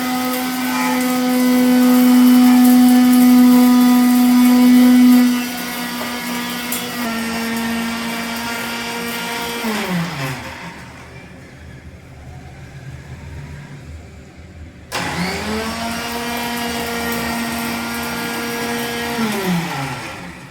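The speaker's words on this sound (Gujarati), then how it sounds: "હવે એને મિક્સરમાં નાખી અને પીસી લઈએ." A kitchen mixer grinder pulverising dried moringa and neem leaves into powder, loud steady whirring motor that winds down to a brief quiet pause, then restarts and runs on evenly.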